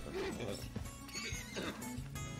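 A horse being tamed in the Red Dead Redemption 2 video game whinnies and snorts loudly up close, with clopping hooves mixed in as it resists.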